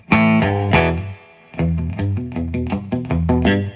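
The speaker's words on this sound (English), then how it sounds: "this has absolutely, completely, totally real Fender spring reverb." Electric guitar chords ring out through a Fender amplifier with a washy, splashy spring reverb tail, played in short strummed bursts with a brief pause.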